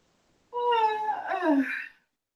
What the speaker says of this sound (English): Who's that yawning?